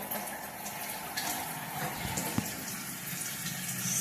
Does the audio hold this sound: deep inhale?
no